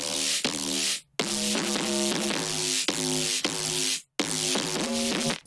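A processed synth bass made in Serum for an emo-style drop plays loud, bright stabbing notes in a choppy repeating pattern, cutting briefly to silence between phrases.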